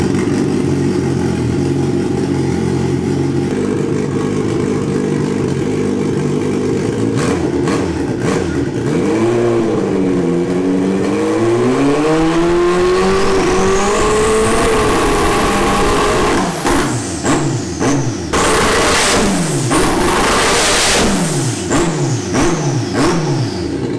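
Turbocharged Suzuki Hayabusa motorcycle engine revving hard while held on the rear brake, climbing from a steady idle through rising, wavering revs to sharp high-pitched blips and turbo whistle, loud and close, with no talking.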